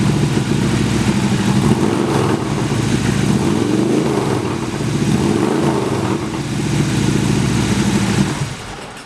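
A 2016 Harley-Davidson Street Glide with a Freedom exhaust idles loudly and close up at a dealership, its deep, lumpy V-twin throb running steadily with slight swells in revs.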